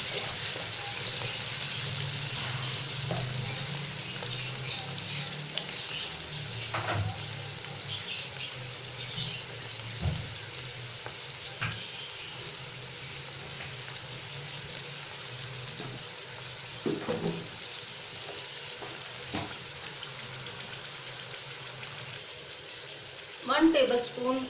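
About a kilo of thickly cut onions fry in a pan toward light brown, giving a steady close sizzle with occasional scraping stirs and clinks throughout.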